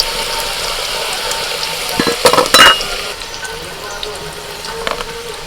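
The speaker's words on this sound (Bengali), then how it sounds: "একটু হলুদ গুঁড়ো মাংস আলু একটু ভালো করে ভেজে নিতে হয়" Meat and potatoes fry with turmeric powder in a pan, giving a steady sizzle with a few sharp scraping stirs in the middle of the clip.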